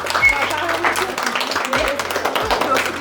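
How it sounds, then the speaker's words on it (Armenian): A small group claps at a family celebration of a sister's 16th birthday and the parents' 26th anniversary; scattered, fairly close hand claps run steadily under voices and some background sound. "Ծափեր տվեք հələ, ծափեր ենք տալիս։"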